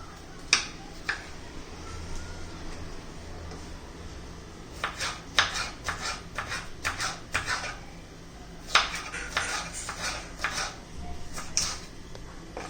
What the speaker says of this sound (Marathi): लांब लांब सर्व मिरच्या मी असे चिरून घेते